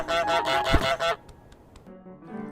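A goose in Untitled Goose Game lets out a rapid burst of loud nasal honks, four or five in a row, then fades into quiet ambience with faint clicks.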